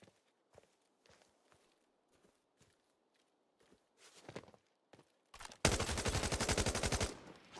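Automatic gunfire in the tactical shooter Arena Breakout Infinite: a few scattered footsteps and faint single shots, then a sudden loud, sustained burst of rapid fire lasting about two seconds before cutting off.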